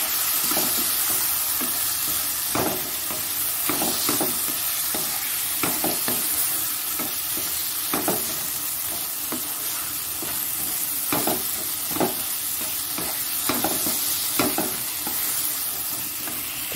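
Spices with coriander powder, turmeric, salt and ginger-garlic paste sautéing in a pan, a loud steady hissing sizzle with repeated scraping stirs at an irregular pace, with no voices.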